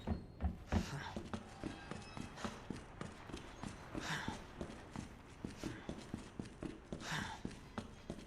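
Heavy, deliberate footsteps of Mr. Thumpy in a Resident Evil game, a steady thudding stride of about two steps per second echoing through a building, moderately close and unaccompanied by talk.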